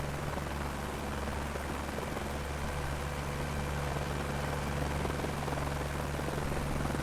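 A helicopter in Microsoft Flight Simulator 2024 drones with a constant, loud engine roar and low rotor thrum, steady throughout and heard without speech.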